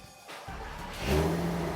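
A Volkswagen R32 engine, freshly reassembled after timing chain work, cranks and catches, then settles into a rising, steady idle hum close by inside a shop.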